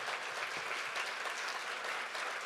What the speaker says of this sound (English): So if you can please give me a round of applause for these ladies.